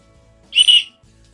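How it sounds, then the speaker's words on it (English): A single sharp, shrill whistle blast lasting about half a second, loud and close, in an otherwise quiet room. "I found the whistle."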